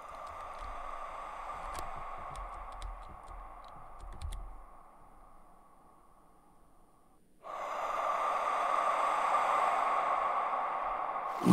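A video game character breathes heavily in a low, steady rasp with scattered clicks and snorts early on, then goes quiet before a louder, sustained breathing hiss surges back in for the last few seconds.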